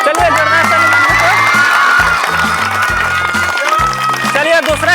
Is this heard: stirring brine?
no